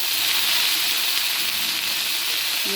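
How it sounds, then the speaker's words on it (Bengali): Onion and green chillies frying in a pan with pointed gourd for Bengali amudi fish curry, a loud, dense, continuous sizzle heard close up, steady throughout with no voices. "কাঁচা লঙ্কা দিয়ে পেঁয়াজ দিয়ে এবার এটাকে আর একটু ভালো করে ভেজে নেব"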